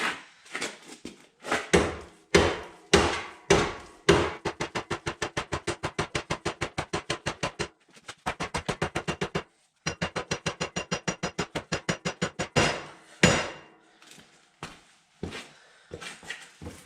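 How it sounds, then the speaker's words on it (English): Hammer blows on the track of a Toro STX-26 stump grinder, a long series of sharp metallic strikes, some slow and spaced, others in rapid regular bursts, close and loud with no talking. "All I do is just take a hammer."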